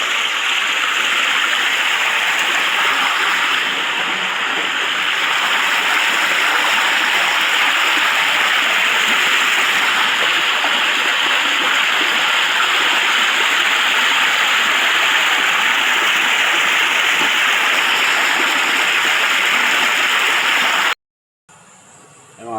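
Spring water streams steadily in a loud, close, continuous rush and gurgle with no talk, then cuts off abruptly near the end.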